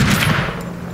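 A gunshot fired at a bear in the survival video game Icarus, a single loud burst at the start that decays into a rumbling tail.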